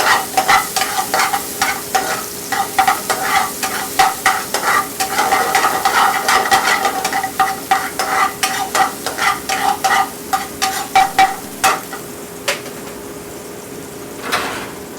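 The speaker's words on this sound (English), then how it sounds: "I'm going to sweat the onions for about 2 minutes." Onions sweating in a hot pan, sizzling steadily while a spoon stirs and scrapes in quick repeated strokes, loud and close with no talk, the stirring easing toward the end.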